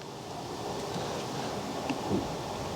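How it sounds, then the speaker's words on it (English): Steady wind buffets the microphone beside a telescoping wind turbine tower with a low, continuous rumble, gusting slightly stronger toward the end; no voices. "It's a little bit windy today."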